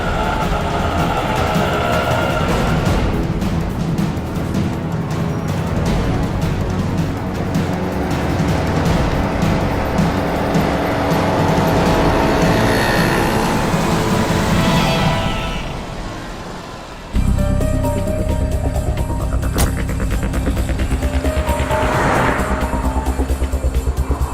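A car's engine drones steadily at speed while trailing another car in a chase, a continuous loud road roar that dips briefly before resuming with a shifted tone.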